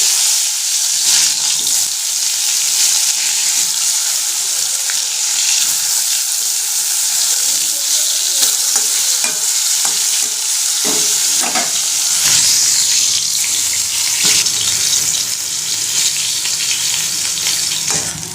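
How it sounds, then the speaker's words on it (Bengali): Eggplant slices frying in oil in a pan, a loud, continuous sizzle close by with occasional clatter from stirring and turning. "এখন বসাবো বেগুন ভাজি"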